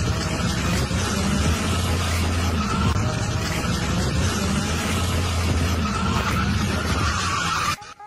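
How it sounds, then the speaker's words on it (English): A drift car snaps sideways on a clutch-kick initiation, its engine droning loud and close while the tires skid in a long continuous screech before cutting off abruptly near the end. "Then there's the simple clutch kick initiation, creating massive energy and force the car to snap the way you want it to."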